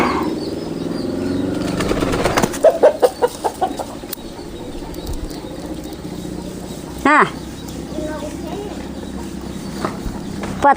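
Chickens flap their wings noisily as they come down from the roost in the morning, with a burst of rapid flapping and a second flurry later, under ongoing background noise and some talk.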